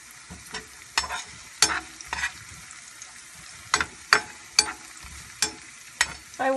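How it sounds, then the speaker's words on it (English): Garlic and onions sizzling in vegetable oil in a pan, a soft steady crackle broken by sharp bursts of spattering and stirring every second or so, close and without talk. "It's sizzling very, very nicely."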